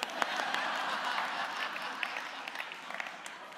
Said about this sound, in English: Let's give ourselves a good clap.